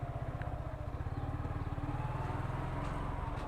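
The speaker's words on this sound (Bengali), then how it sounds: "কিন্তু আমরা এখন যেদিকে বাইক চালাচ্ছি," A motorcycle engine thrums in a steady, fast pulsing rhythm while riding along a rough road, moderately quiet and without speech.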